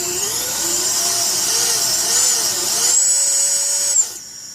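Motors of an Ideafly Grasshopper F210 drone whine loudly and close by, the pitch swelling and dipping in repeated throttle surges, then holding higher before cutting off sharply.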